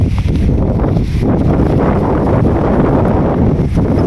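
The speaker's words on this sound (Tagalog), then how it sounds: "Grabe laki ng hangin. Hangin talaga. Lakas." Strong wind roars and buffets the microphone continuously at a fishing pond, a loud broadband rush with no clear pauses.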